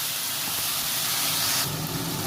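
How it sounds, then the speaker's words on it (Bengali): Tomato and ginger paste hisses steadily in hot oil with whole cumin for a Bengali dhokar dalna, a close, even sizzle that brightens slightly near the end. "টমেটো আদা বাটা দিয়ে ভালো করে কষিয়ে নিচ্ছি।"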